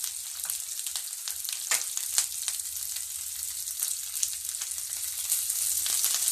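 Curry leaves and green chilies crackle and spit in hot frying oil, a dense bright sizzle with sharp pops that carries on steadily and swells slightly toward the end.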